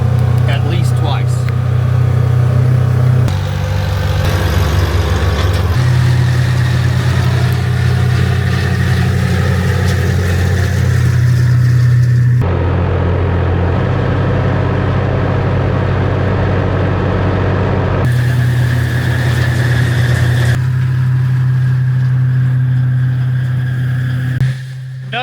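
A pecan harvester engine runs steadily in an orchard, a loud continuous mid-pitched drone with shifting load throughout, while someone talks over it.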